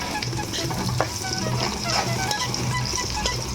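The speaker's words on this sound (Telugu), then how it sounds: "క్యారెట్ ముక్కలు వేసేయాలి మనం ఎక్కువ ఫ్రై చేయకూడదు" Carrot pieces fry lightly in a pan with a steady, close sizzle and scattered scraping from stirring, and no one talks.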